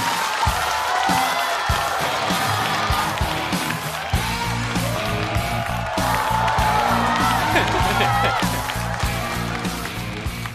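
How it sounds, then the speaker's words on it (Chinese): A stand-up comedy studio audience applauds and cheers to welcome the guest performer Hu Ge, a dense, continuous wash of clapping and crowd noise lasting throughout. "让我们掌声有请胡歌。"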